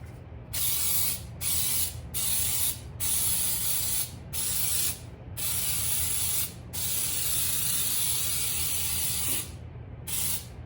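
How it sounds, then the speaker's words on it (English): Repeated bursts of flour-containing baking spray hissing from an aerosol can into a cake pan, several short sprays then longer continuous ones, close and loud, with no talking. "I like to get this spray that has the flour incorporated in it"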